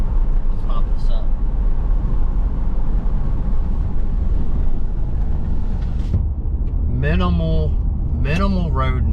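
Steady low rumble of road noise inside a fourth-generation Ram 1500 pickup truck cruising along, a continuous hum with someone speaking over it toward the end.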